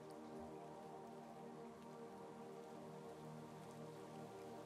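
Steady rain falls as a continuous, even hiss of drops on surfaces, soft and constant throughout with no voices.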